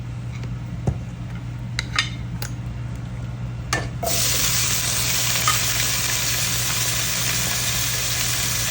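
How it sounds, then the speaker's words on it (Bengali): Potatoes frying in a little oil in a frying pan, after cauliflower was fried in it, for a home-cooked Bangladeshi vegetable and fish dish; a steady close sizzle swells loudly midway, with a few sharp clinks and taps before it. "এই এই ফ্রাই প্যানেই অল্প একটু তেল দিয়ে আলুগুলিকে ভেজে নেব"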